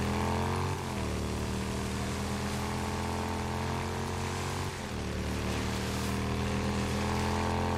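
A motorcycle engine rides in the video game Days Gone, a loud, steady droning hum that holds throughout, with brief dips in pitch as the rider shifts or changes speed.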